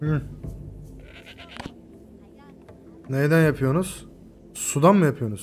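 Goats bleating in the video game Dawn of Man, two loud wavering bleats in the second half, preceded by a person talking over quiet game sounds.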